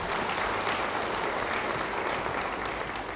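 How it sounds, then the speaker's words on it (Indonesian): Dense, sustained clapping from a church congregation during a sermon, an even roar of many hands that holds steady for a few seconds. "Yang 3 beri tepuk tangan bagi dia."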